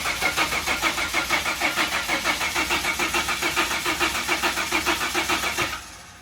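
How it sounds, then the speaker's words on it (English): A turbocharged Ford Barra engine in a car cranks with rapid, even rhythmic pulses for several seconds, loud and close, then quickly drops away. "As you can hear in the background, the car is running."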